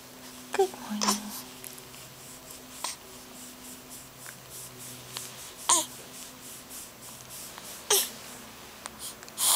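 A child sneezes several times in a morning family setting, short sharp bursts spaced apart over faint background noise, with adults' voices occasionally heard.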